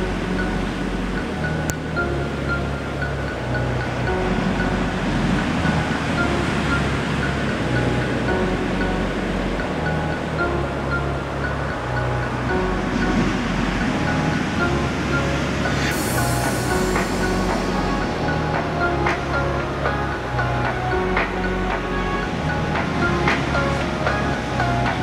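Ocean waves crash on an Icelandic shore in bad weather, giving a steady, loud roar of surf with continuous low rumbling throughout.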